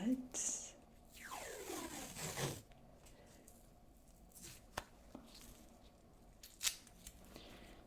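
Adhesive tape tearing off a roll to tape a mouth shut in a close-miked ASMR doctor role-play, one long rising rip followed by soft handling taps and a sharp click, with faint quiet speech.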